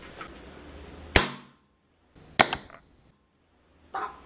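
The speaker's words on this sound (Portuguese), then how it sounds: "Então vamos lá pro primeiro disparo." Three sharp, loud gas blowback shots from a KJW P226 airsoft pistol fired indoors at a cardboard box with a pillow behind it, each a crisp crack with short decay, spaced about a second apart.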